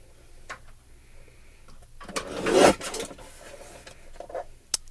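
A Tim Holtz paper trimmer slices through heavyweight paper in one brief rasping stroke, preceded and followed by small clicks and handling taps, fairly close and with no voice.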